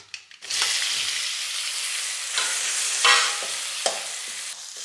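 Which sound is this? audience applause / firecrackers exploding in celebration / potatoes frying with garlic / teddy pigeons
potatoes frying with garlic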